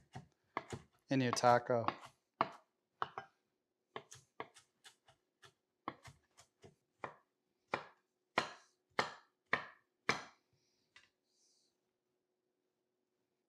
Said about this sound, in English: We're gonna fine chop this lettuce a little bit so you don't get a big chunk of lettuce